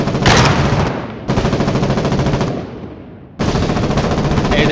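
Rapid machine gun bursts in the war game Foxhole, loud and close, with dense repeated shots in long volleys separated by brief pauses and no talking.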